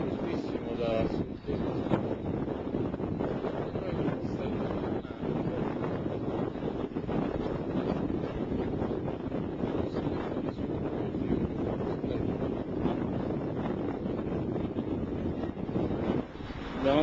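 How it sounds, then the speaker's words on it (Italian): Strong southerly wind gusting at the coast of Capo Peloro near Messina on the Strait of Messina, a loud, continuous broadband roar buffeting the microphone throughout with brief louder surges and no voices. "tira un vento fortissimo da sud."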